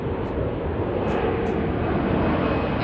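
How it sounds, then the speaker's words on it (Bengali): An airplane passes high overhead during an outdoor night cooking session, a steady broad engine roar that stays continuous and fairly loud throughout. "আবার প্লেন যাচ্ছে আপনাদের সঙ্গে কথা বলতে বলতে।"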